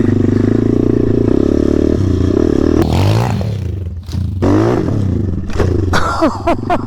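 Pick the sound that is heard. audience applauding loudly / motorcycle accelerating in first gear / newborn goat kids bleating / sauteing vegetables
motorcycle accelerating in first gear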